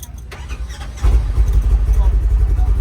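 The engine of a 2024 Polaris Xpedition side-by-side idles, then rises into a deep, rumbling rev with a throaty exhaust note that holds close and loud, while voices talk over it.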